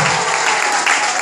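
Loud, dense applause from a large crowd at an outdoor Easter ceremony on a mountain, a continuous roar of many clapping hands close by with no pause.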